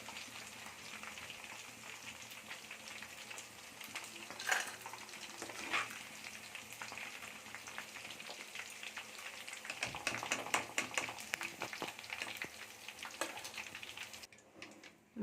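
Okra fries in a pan with a steady sizzle, stirred now and then with clinks and scrapes of a metal utensil, moderately loud and close, no speech.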